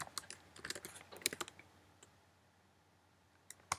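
Quick bursts of clicky computer keyboard typing while entering text in Photoshop, a cluster of keystrokes over about a second and a half followed by quiet and a final couple of taps, close and fairly soft.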